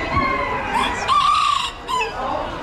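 Rooster crowing amid clucking chickens in a livestock barn at the State Fair of Virginia, a drawn-out crow rising and falling over close, busy fowl noise, with shorter calls following.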